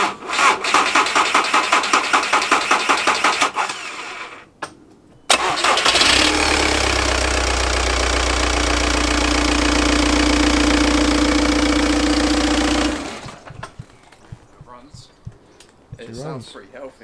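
An Audi A4 TDI diesel engine after a timing belt change, with rhythmic cranking that catches and settles into a loud, steady running clatter for several seconds before shutting off, followed by quieter background noise.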